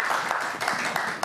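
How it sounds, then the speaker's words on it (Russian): A studio audience at a live evening broadcast in Gomel bursts into steady applause, a dense wash of many hands clapping at once, sustained and fairly close. "этим советам нужны аплодисменты"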